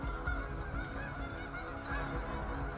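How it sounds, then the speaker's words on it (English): A flock of geese honking continuously, overlapping calls at moderate distance with no speech. "there's a lot of geese in the background."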